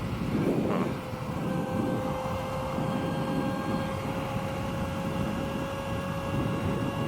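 A Kollter TinBot Artisan ES1-S Pro 11 kW electric motorbike at full throttle gives a steady high motor whine with several pitched tones over a constant rush of wind and road noise.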